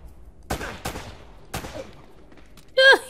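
Gunfire from Uncharted: Drake's Fortune video game: three or four sharp shots crack out in quick succession, followed by a brief voice at the end.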